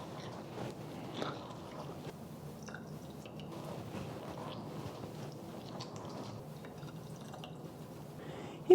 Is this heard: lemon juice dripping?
yes